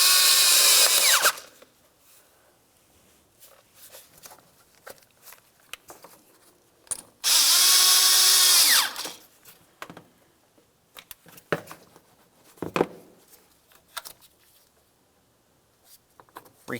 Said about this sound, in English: Once you've done that, tighten each of the clamps.